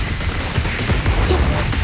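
Rapid gunfire from the video game Zenless Zone Zero, a dense continuous burst of shots mixed with game effects and low booms, loud and steady throughout.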